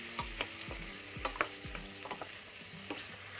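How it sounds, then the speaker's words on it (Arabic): Chicken pieces frying in a pan, with steady sizzling and repeated stirring scrapes and clinks close by, several sharp utensil knocks scattered through, no talking. "إذا نحمروا الدجاج كيما يلزم، نحطوا الطماطم معجونة ونقليوها مع الدجاج"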